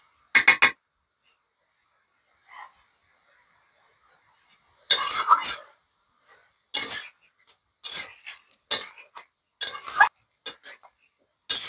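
Gourd leaf curry stirred in a pan, with a series of separate clinking metal scrapes in irregular bursts and quiet pauses between them, close by, with no talk.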